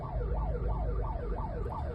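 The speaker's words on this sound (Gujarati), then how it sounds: "જો મારી પાછળ એમ્બ્યુલન્સ છે" An ambulance siren wails in a steady rising-and-falling cycle, fairly close, over a low rumble of traffic and engine noise.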